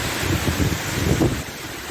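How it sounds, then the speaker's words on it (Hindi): Heavy rain and strong wind in a storm on a motorbike tour through Khyber-Pakhtunkhwa, Pakistan, roar steadily as a dense, buffeting rush of noise close to the microphone, unbroken throughout. "ये बहुत तेज़ बारिश है और बहुत तेज़ हवा है"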